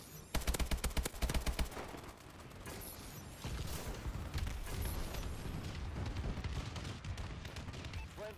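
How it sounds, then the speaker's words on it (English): A friendly bombing run in a shooter video game brings rapid bursts of machine-gun fire at first, then a dense, rumbling barrage of gunfire and explosions that carries on steadily. "Friendly bombing run incoming."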